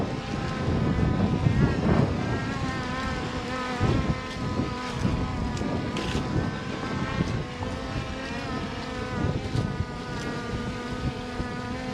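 A Skydio 2 drone flies outdoors on a windy day, its rotors giving a steady, insect-like buzzing whine with shifting pitch, fairly close and continuous throughout.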